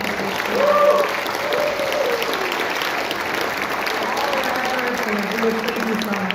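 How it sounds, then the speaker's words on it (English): Audience applause at a Utah State Senate District 22 candidate debate, a steady wash of clapping from a seated crowd lasting several seconds, with a voice speaking faintly over it. "One more round of applause for all of our candidates."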